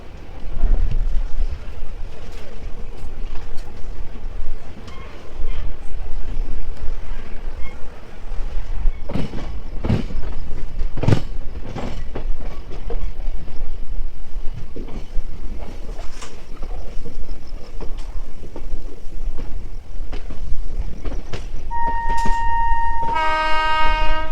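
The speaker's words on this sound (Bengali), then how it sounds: "এনজেপি স্টেশনের পাঁচ নম্বর প্ল্যাটফর্ম থেকে আমাদের ট্রেন যাত্রা শুরু করলো মহাকুম্ভর উদ্দেশ্যে" A train pulls out of platform five at New Jalpaiguri (NJP) station with continuous rumbling and rattling of the wagons, several sharp clanks, and a loud horn blast toward the end, with wind buffeting the microphone throughout.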